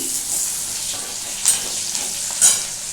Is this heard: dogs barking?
no